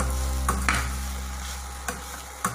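Mashed raw banana podimas sautéed in a pan over low heat, a soft continuous sizzle broken by a few spatula scrapes and taps against the pan, close and quiet, with no talking.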